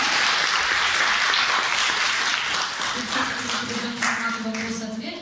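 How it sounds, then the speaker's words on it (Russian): Loud audience applause for singer Asker Berbekov, a winner of The Voice, dense and sustained throughout, with a voice or tone rising underneath toward the end. "я думаю, что «Аскер» заслуживает громких аплодисментов."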